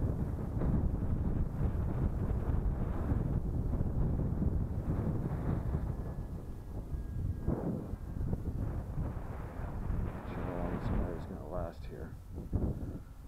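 Strong wind buffets the microphone outdoors during a 3D-printed Spitfire model plane flight, a loud low rumble that surges and gusts throughout, with a faint motor whine near the end.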